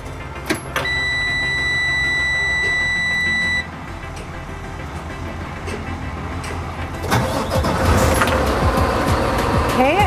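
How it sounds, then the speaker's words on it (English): A truck with air brakes starts up during an air brake practical test: a steady warning buzzer tone sounds first, then the engine cranks and catches into a louder running rumble, with some talk. "We're going to start our engine."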